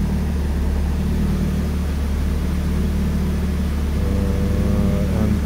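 A car engine idles steadily under prototype PID automatic idle control with no throttle applied, a continuous loud low drone whose pitch wavers slightly as the idle speed hunts toward its target.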